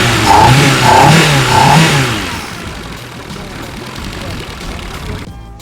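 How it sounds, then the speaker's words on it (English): A car engine revs up loudly several times in quick succession, then settles into a lower, quieter running rumble, close by. "Even if I rev it up, you can feel a bit of vibration there."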